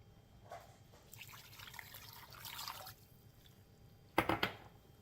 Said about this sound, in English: So I'm going to definitely be adding some water.